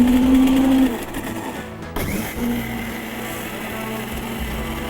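A wet grinder works soaked urad dal for payasam with a loud motorized whir and a steady droning hum; the pitch dips and restarts briefly partway through, then settles into a continuous grind.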